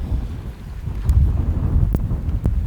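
Strong wind in sunny weather in Croatia buffets the microphone in a low, rumbling roar, with a couple of sharp clicks near the end.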